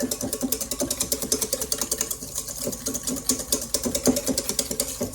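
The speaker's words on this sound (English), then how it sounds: "I'm going to really whisk these up so that they can get lighter in color" Egg yolks being whisked by hand in a bowl for a Bûche de Noël, a quick, steady, rhythmic clicking and scraping that runs continuously throughout at close range, with no talking.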